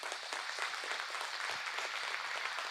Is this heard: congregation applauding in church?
yes